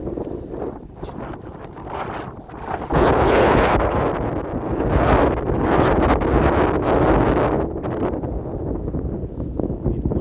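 Strong November autumn wind buffets the microphone in heavy, continuous roaring gusts that swell louder partway through, with no voices.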